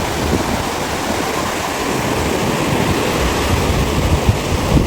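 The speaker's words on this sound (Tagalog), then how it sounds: "hindi na masyado malakas yung alon" Steady roar of ocean surf washing onto Bagasbas beach, continuous and fairly loud with no voices, a broad rushing wash of modest waves that swells slightly throughout.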